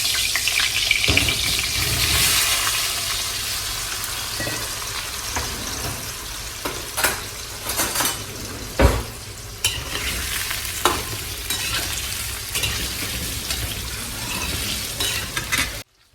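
Steady sizzling and crackling of potatoes frying in a pan, with occasional scraping stirs and clanks of a utensil against the pan.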